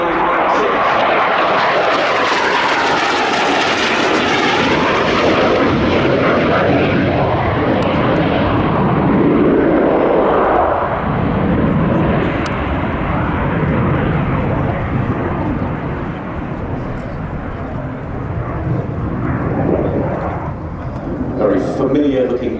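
A Harrier II AV-8B Plus jet makes a flying display at the Royal International Air Tattoo 2024, its loud roaring engine sweeping past with a shifting pitch, while a commentator talks over it.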